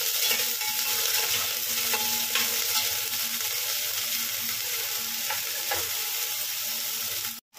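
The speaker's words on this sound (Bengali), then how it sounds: "এবার এর মধ্যে দিয়ে দেবো পেঁয়াজ কুচি আর ক্যাপসিকাম কুচি। হালকা ভাজা ভাজা করবো পেঁয়াজ ক্যাপসিকামটা দিয়ে।" Chopped onion and capsicum fry in a pan with a continuous close sizzle and faint stirring scrapes, constant until a brief cut just before the end.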